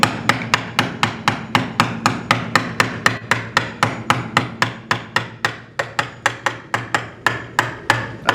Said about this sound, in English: And use a hammer, don't use a mallet.